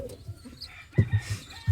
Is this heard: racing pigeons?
yes